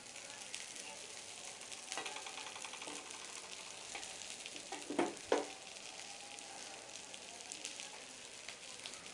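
Soya chana tikki cooks in a pan with a soft, steady sizzle throughout, broken by a couple of short louder crackles near the middle. The sound is faint and close, and no one talks.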